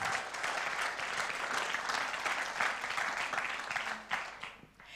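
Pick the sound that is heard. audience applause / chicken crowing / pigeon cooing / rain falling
audience applause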